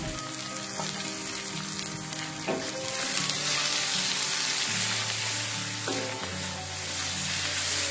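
Steady close-up sizzling of enoki mushrooms stir frying in a hot pan, with occasional stirring scrapes and clinks, no voices.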